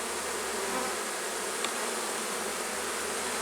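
Honeybees buzzing around an opened hive as a middle frame is slowly lifted out, a steady close swarm drone with no voices.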